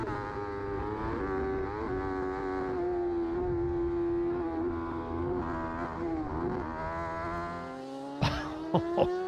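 Davey Todd's BMW racing motorcycle at Armoy, a loud, close engine whine holding a steady high note with wavering pitch, then a shifting gear change and a few sharp knocks near the end.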